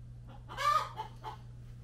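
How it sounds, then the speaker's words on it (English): Hens clucking loudly while competing for a nesting box, a short burst of squawky fowl calls up close over a steady low background hum. "chicken who's trying to get the nesting box that the other chicken has, so a little bit loud"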